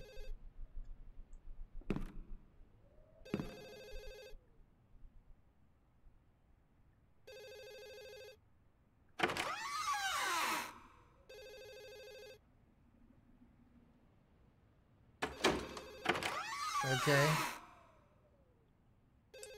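A telephone in the Wii horror game Ju-On: The Grudge rings in short electronic bursts every few seconds. The rings are faint and distant, interleaved with louder breathy sighs and gasps, with no speech.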